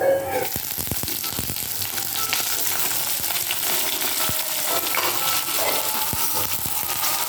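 Garlic and panch phoron (five-spice) sizzle steadily in hot oil, a continuous crackling hiss with a few sharp clinks from a utensil against the pan.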